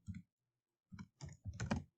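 Computer keyboard keys are pressed in a short, quiet burst of clicks, with Y, V and Enter struck in sequence.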